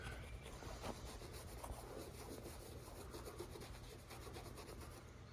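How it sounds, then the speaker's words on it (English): A rag dampened with Windex rubs back and forth across the roof of a 2016 GMC Yukon Denali, a soft, steady scrubbing swish heard up close, with no talking. "get me a little Windex spread on a rag, wipe it off, clean it up real good"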